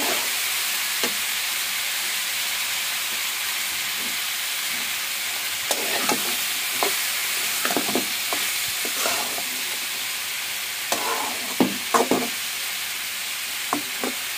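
Potatoes and flat beans fry in oil for a bhaji, a continuous close sizzle with irregular scraping and clicking strokes of a spoon stirring the pan, growing busier in the second half.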